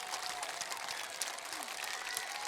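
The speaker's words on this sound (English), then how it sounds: "And great applause by the Interboro faithful." A home crowd at a high school homecoming football game applauds in the stands, a steady, fairly faint patter of clapping heard from a distance outdoors, with a few sharper claps rising above it.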